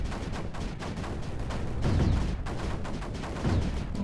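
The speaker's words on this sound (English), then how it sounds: "Land a mortar a little bit closer to the front lines there." Mortar fire in the strategy video game Creeper World 4: a dense stream of overlapping booming shots and thuds, steady and fairly loud, with a couple of heavier bursts, with no voice over it.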